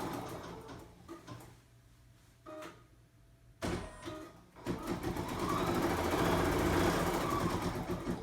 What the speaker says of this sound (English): it is stitching the placement line, which shows me precisely where to put the applique shapes